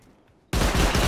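Gunfire in the video game Rust bursts in abruptly after a quiet moment, a loud dense rapid volley of shots continuing to the end.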